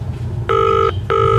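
Two electronic phone rings burst out in a detective video game after a number is dialed, each a steady buzzing tone about half a second long, separated by a short gap, loud over a faint low hum.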